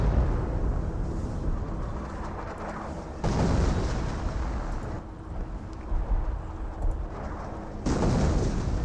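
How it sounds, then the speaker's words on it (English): Heavy rumbling howitzer barrage explosions in Company of Heroes, with thick booming bursts rolling over each other, a few sharper blasts standing out from a constant roar. "Looks like another howitzer barrage onto the casualty recovery bunker."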